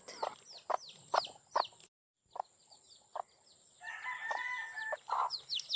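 Mother hens cluck in short, close bursts, pausing briefly; then a rooster's drawn-out crow rises amid more clucking.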